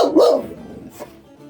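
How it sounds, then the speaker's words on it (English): Scrappy the dog barks indoors, a couple of loud sharp barks up front followed by a fainter yip, fairly close and with no talking over it. "Scrappy's barking because next door they're like doing an inflatable bouncy house"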